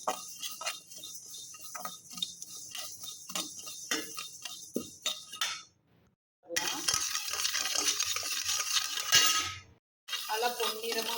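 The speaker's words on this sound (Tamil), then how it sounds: "இப்போ ஜீரகத்தை நல்லா வறுத்து எடுத்துக்கலாம்" Cumin seeds dry-roasting in a pan, with repeated scraping and clinking from a metal spatula stirring them over a faint crackle, twice broken by short silences and then picking up again, close by.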